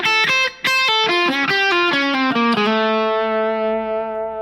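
Electric guitar with a distorted, effects-laden tone plays a quick descending altered-scale lick, a run of separate picked notes that lands on a sustained final note and rings out alone.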